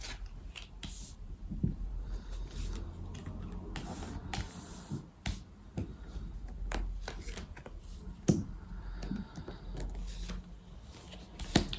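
Tarot cards being shuffled for a nine-card draw, with soft riffles, taps and brushing sounds in irregular bursts, close but fairly quiet and without talk.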